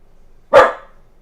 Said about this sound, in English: Maxie, chill with the barking.